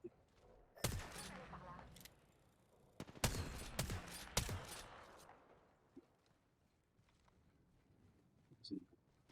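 Gunfire in a first-person video game comes as a few sharp, quiet bursts spread over several seconds, one near the start and a tighter cluster in the middle, then fading into a low background.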